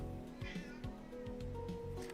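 A pet cat meows near a quiet indoor room, giving a few short, faint cries over a low steady hum, with no talking.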